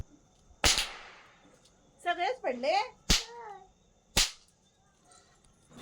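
Small aapti bar snap firecrackers burst at night during Diwali, three sharp loud cracks spaced about a second apart, with a person speaking briefly between them.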